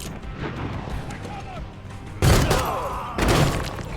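A grenade detonates in Door Kickers 2, a loud broadband boom at mid-clip followed by a second blast, set against steady background noise and some low game chatter.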